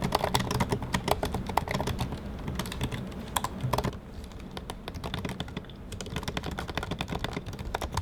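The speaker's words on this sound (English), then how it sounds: "here's a sound comparison between the 2017 and the 2018 MacBook Pro's keyboards" Rapid typing on a 2018 MacBook Pro keyboard, a close, continuous patter of light clicky keystrokes with a brief slower pause midway before the quick tapping resumes.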